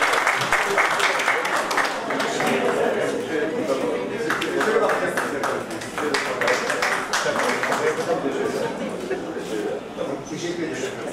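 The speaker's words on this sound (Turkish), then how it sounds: "Sanatçımızı büyük alkışlarla uğurluyoruz." An audience at a hospital event gives dense, sustained applause to see off a performer, with a voice speaking over the clapping throughout.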